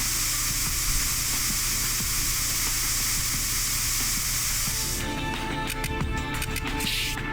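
A steady, loud hiss from a spray in the video game Trauma Team carries on for several seconds, then breaks off into softer, crackling bursts.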